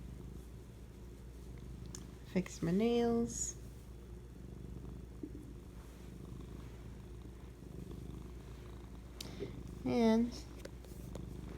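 A pet cat purrs with a steady low rumble throughout, close by, while someone talks over it in bursts.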